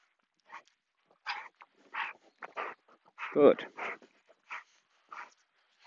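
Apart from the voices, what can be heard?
dog whimpering during training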